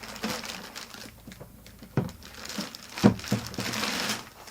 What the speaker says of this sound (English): slide the protective plastic bag off